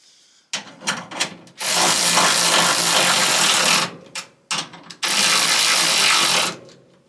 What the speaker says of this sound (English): this Ryobi ratchet is basically worthless